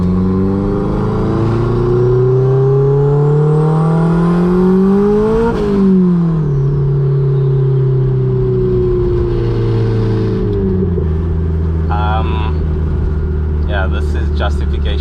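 A boosted car with no exhaust accelerates hard, its engine note climbing loudly through the revs, dropping at a gear change, then pulling again up close with a raw, rasping roar; talk is mixed in.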